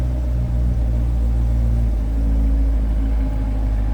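The mid-mounted engine of a 2021 Chevrolet Corvette Z51 3LT coupe rumbles steadily at close range, a deep continuous drone with a slight rise in pitch partway through, no voices.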